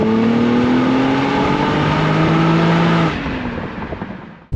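Infiniti G37 with the 3.7-liter VQ V6, 329 horsepower, revving hard toward 7,500 RPM, a loud sustained rising engine scream heard alone for about three seconds before it drops off and fades.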